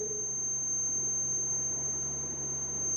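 A steady, high electronic tone from an Arduino-based person counter's buzzer buzzes continuously over faint background hum, with no voices.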